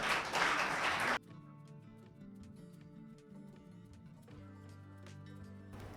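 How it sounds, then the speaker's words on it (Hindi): Audience applause at a Women's Day awards ceremony, a short, loud burst of clapping lasting about a second that cuts off abruptly into quiet background music. "ऋतिक्षा के लिए एक बार जोरदार तालियां हो जाए"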